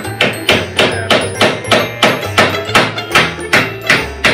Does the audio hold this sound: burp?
no